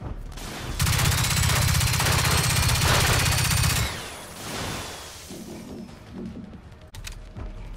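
Automatic weapon fire in Generation Zero during a fight against killing machines: a loud, rapid, continuous burst lasting about three seconds, followed by quieter clattering combat noise and scattered impacts.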